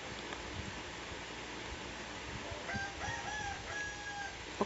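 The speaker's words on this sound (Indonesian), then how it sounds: "ada suara ayam" A rooster crows in the background, a faint drawn-out call rising and falling over steady noise, heard at a distance.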